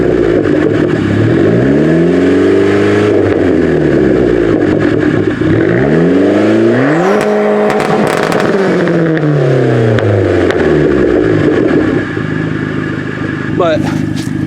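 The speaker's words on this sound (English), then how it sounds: "I'll go ahead and rev it up for you guys" A Dodge Neon SRT-4 with the stock exhaust revs repeatedly, its pitch sweeping up and falling back several times in loud, close bursts, with brief noise toward the end.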